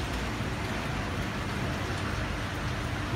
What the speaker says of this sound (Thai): นี่เริ่มตกแล้วตกนิดแล้ว